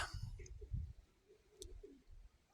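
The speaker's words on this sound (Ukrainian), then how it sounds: "Кинув голубів своїх, ризорябих, диви, що роблять" Soft, low cooing of red-pied pigeons close by, a few murmuring coos with a faint chirp, quiet and otherwise calm.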